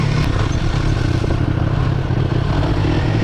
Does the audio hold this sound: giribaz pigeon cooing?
no